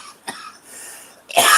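A person coughs after smoking, two short throat-clearing coughs followed by a harsher burst, close and fairly loud.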